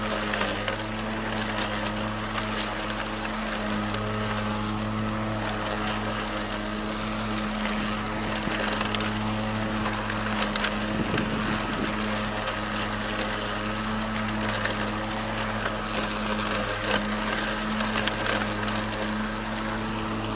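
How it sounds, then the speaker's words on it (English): Greenworks 80V battery-powered self-propelled lawn mower cutting very tall grass, with a steady electric motor hum and continuous broadband blade whoosh that stays even and close throughout, with no voices. "after mowing approximately 45 minutes with the self-propelled mode, the battery now says it is empty"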